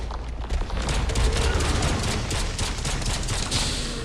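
Gunfire in the VR shooter Into Black, a rapid string of sharp shots fired in bursts across several seconds over a steady rumbling background.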